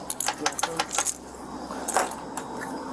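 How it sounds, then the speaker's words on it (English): A set of keys jangling and being set down on a car hood during a night traffic stop, a quick series of bright metallic clinks followed by a couple of later taps, close by. "Can you put your keys up here too?"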